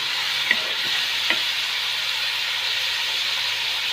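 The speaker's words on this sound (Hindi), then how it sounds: "अब मैं प्याज को अच्छी तरह से सौते कर लूँगा" Chopped onions sautéing in a little oil in a pan, a steady close sizzling hiss with a couple of soft stirring clicks, no talk.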